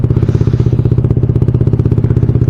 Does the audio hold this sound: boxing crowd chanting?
no